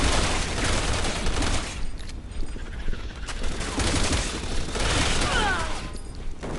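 Bursts of gunfire from the video game Resident Evil 6 come in two dense volleys separated by a brief lull, fairly quiet overall with faint talk underneath.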